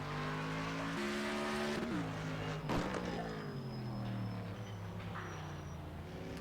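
A Bugatti race car laps Le Mans in a racing game, its engine loud and close, revving up and shifting through gears with brief tire squeal through the final section. No one speaks.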